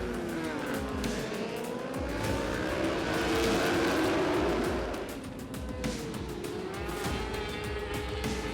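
Racing motorcycles roar through an endurance world championship race at Oschersleben, a dense, loud blend of high-revving engines from several bikes passing and sweeping pitch, with a continuous crowd-like wash underneath.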